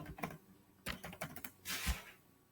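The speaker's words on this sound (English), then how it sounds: "And I've just got to type in the password." Computer keyboard being typed on to enter a password, a short burst of a few sharp, irregular key clicks and taps, close and fairly quiet, with no talking.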